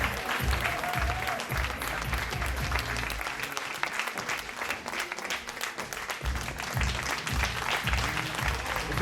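Audience applause at a fashion show, a dense continuous clapping from a crowd, moderately loud and steady, with low rumbling thumps and some background voices underneath.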